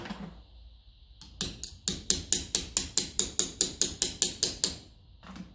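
A metal tool taps repeatedly on a 1955 Lucas starter motor from a Ferguson 20 diesel tractor, making a quick, even series of about fifteen sharp, close metallic clicks.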